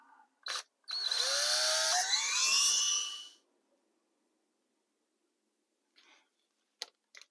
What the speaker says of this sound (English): I want to drill a little hole right here